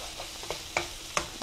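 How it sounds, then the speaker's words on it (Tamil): Ginger garlic paste and chickpeas are stirred in a hot pan, giving a soft steady sizzle broken by a few sharp scraping clacks of the spoon against the metal. "இந்த அரைச்ச இஞ்சி பூண்டு விழுத இதோட சேர்த்துங்க. இது சேர்த்து கொஞ்சம் பிரட்டின பிறகு"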